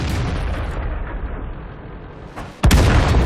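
An M44 self-propelled artillery gun in World of Tanks fires a single loud, sharp boom near the end, after a low rumbling lead-in with no talk.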